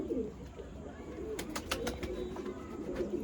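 Pigeons at a pigeon sale and show, soft low cooing close by under a faint background hiss, with a brief burst of clicks and rustling near the middle and no clear talk.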